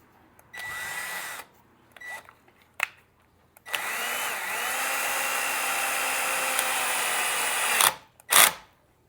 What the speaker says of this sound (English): Now let's drill the other hole.